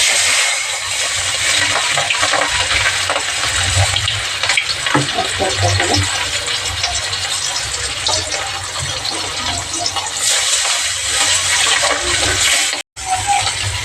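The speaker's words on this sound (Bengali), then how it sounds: "তেলটা আমার দুই সাইডে গরম হয়ে গেছে এবার আমি মাছগুলো দিয়ে দেবো" Fish frying in hot oil, a loud, steady, hissing sizzle that fills the whole stretch, with a brief dropout near the end.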